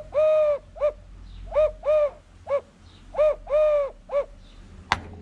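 A mouth-blown hunting whistle imitates a turtle dove, sounding a run of hollow, cooing hoots in short groups of one and two notes, close and clear, ending with a sharp click.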